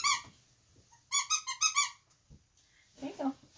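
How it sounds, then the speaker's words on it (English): A dog's squeaky toy squeaks in a quick burst of four or five sharp, bright squeaks, then again in a shorter pair near the end, loud and close in an otherwise quiet room. "Do you want your squeaky toy?"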